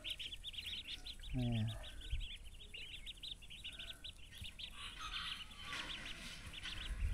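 Ducks quack near a person while rapid, repeated high chirping calls run throughout and a low honk sounds once early on, with a voice speaking briefly among the bird sounds.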